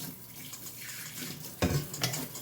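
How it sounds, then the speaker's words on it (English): Tap water runs to rinse a bowl in a kitchen sink, a soft steady stream followed by a brief louder splash as the bowl meets the flow. "Quick rinse off."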